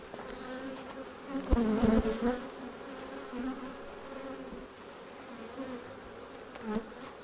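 Honeybees buzz steadily around an open hive being worked for mating nucs, a dense droning hum that swells briefly louder near the start, then settles into a continuous background whir.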